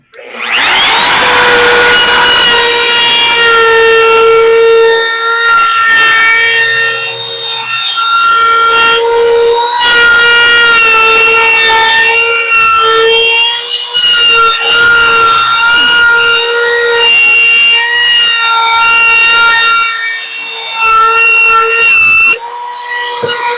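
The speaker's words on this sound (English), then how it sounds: "I'll get my hand router, put me in a 1/4 inch round over a bit, and I'll go ahead and round over all the edges and inside the slats." A hand router fitted with a 1/4-inch round-over bit rounds the edges and inside slats of a wooden door mat, giving a loud, continuous high motor whine with brief dips as it moves along the wood, and no talking.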